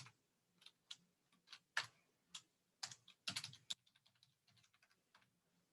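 Typing on a computer keyboard, a run of close, crisp key clicks in irregular bursts, some clustered quickly together, with no talking.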